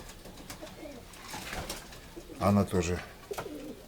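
Pigeons in a loft, including a silky dove, give a short run of low throaty coos close by, following quieter background rustling and someone speaking briefly.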